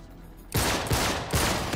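Gunfire in Uncharted 3 Remastered erupts suddenly after a quiet moment, a loud rapid burst of shots with a second burst following close behind.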